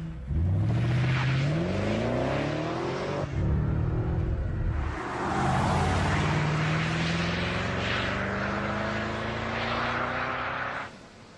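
A BMW 6 Series engine revs repeatedly up through rising pitches, loud and close, with brief drops between pulls and a long sustained climb near the end.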